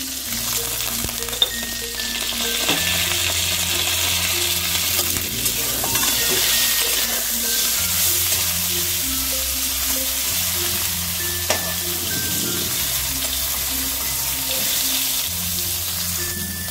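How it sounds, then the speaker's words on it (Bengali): Eggplant slices seasoned with turmeric and salt frying in a pan, a close, steady sizzle lasting throughout with a few faint stirring scrapes and no talk. "আর দিয়ে দেবো অল্প একটু নুন দিয়ে বেগুনগুলোকে কিন্তু একটু ভালো করে ভেজে নেব"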